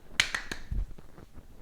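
Hand claps while catching a tennis ball without a bounce, three quick sharp claps in rapid succession followed by a dull thud of the catch, close and fairly quiet.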